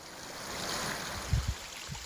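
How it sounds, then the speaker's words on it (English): A small waterfall in Gila National Forest gives a steady, soft rushing wash of water, fairly even and moderately faint, with a couple of brief low thumps near the middle and no speech. "Check out this little waterfall."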